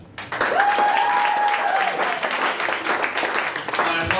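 An audience at a Cambridge comedy club claps and cheers in a sudden burst that holds steady for several seconds, with a whistle near the start and a voice coming in over the tail end.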